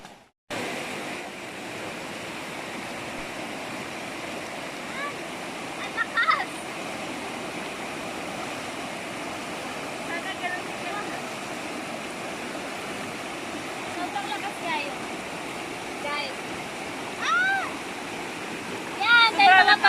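Water rushes without a break at Inuman-banog Falls, a loud, close, steady roar of falling water that swells slightly near the end, with a few faint higher sounds over it.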